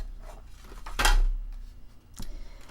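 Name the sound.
scissors cutting paper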